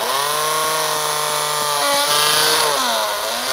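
A power drill bores into the trunk of a date palm being treated for coconut beetles, a loud continuous motor whine that shifts pitch several times as the bit bites and eases.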